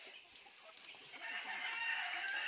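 Backyard chickens in Masbate, Philippines cluck and crow close by, a busy overlapping chorus of fowl calls that grows slightly louder toward the end, with no talking.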